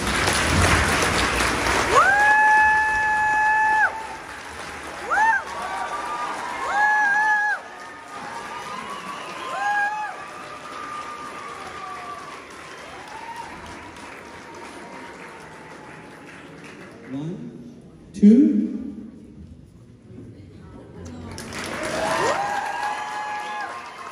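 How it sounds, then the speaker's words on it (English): A crowd at a children's Christmas play in Namibia claps and cheers, with bursts of applause rising and falling, children shouting, and a loud peak near the end. "another round of applause, please"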